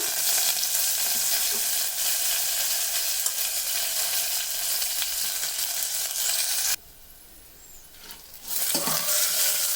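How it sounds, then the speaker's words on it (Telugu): Curry leaves, coriander, mint and pepper powder sizzling loudly in hot oil in a pan, a steady close frying hiss that drops out abruptly near the end before resuming. "ఇవన్నీ వేసుకున్నాక ఇలా తిప్పుకోండి."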